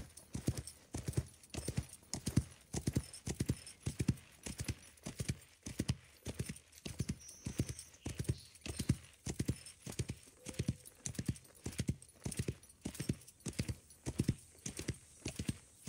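Horse hooves clip-clop steadily while riding in the Wild West Online video game, an even galloping rhythm close and moderately quiet with no talk over it.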